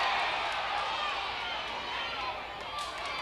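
A wrestling crowd at a Texas Championship Wrestling match roars in a dense, steady wash of noise throughout, loud and unbroken, with individual chant words not clearly distinct.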